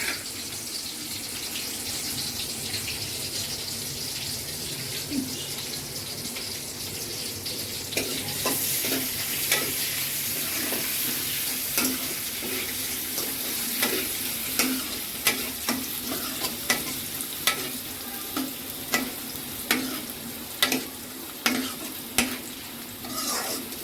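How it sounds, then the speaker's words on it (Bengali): Dal tempering (baghar) with cumin and chopped potato sizzles in a hot pan, a soft frying hiss that swells suddenly loud and continues with repeated sharp stirring scrapes at a steady rhythm. "ডাল বাগার দিলাম।"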